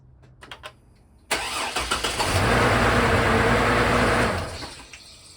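A Chevrolet Blazer engine cranking and firing up after a 4L60E transmission repair, catching with a sudden roar, revving briefly, then settling into a steady idle before dropping off near the end.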